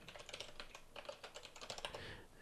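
Rapid typing on a computer keyboard, a steady run of close, crisp key clicks with irregular rhythm and no talking over it.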